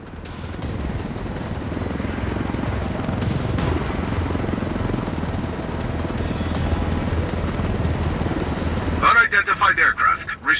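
Helicopter in the video game Ghost Recon Wildlands, a steady, loud rotor drone running the whole time, with a sharper buzzing burst near the end.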